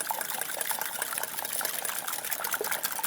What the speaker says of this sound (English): So I'm just gonna whisk the eggs.